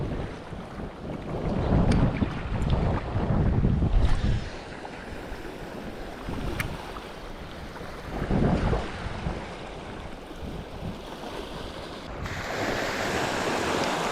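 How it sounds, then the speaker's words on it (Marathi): Strong wind buffets the microphone in heavy gusts over rolling surf on a Konkan beach, roaring loud then easing, with waves breaking in the background. "आज अचानक खूप वाढला आहे वारा."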